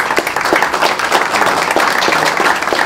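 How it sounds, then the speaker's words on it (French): An audience at a talk on accessibility and shops claps in a dense, sustained burst of applause, close and loud, with no speech over it. "Vous avez bien raison d'applaudir"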